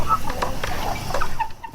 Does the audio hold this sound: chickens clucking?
yes